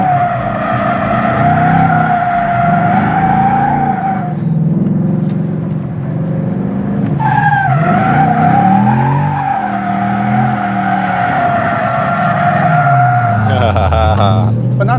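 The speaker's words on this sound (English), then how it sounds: "Try the other way. Evenly destroy the tires." A Mustang GT does a burnout, its tires skidding and squealing loudly and continuously over a roaring engine. The revs dip briefly midway and then climb again, and voices talk underneath.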